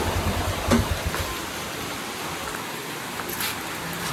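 Heavy rain falls steadily in a broadband wash, near and constant, with a brief louder patter early on and no voices over it.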